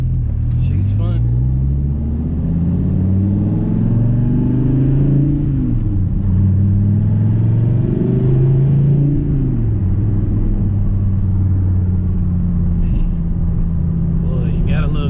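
Dodge Viper engine pulling hard during a ride, a deep steady rumble whose pitch climbs and dips through the gears, loud and close throughout the cabin.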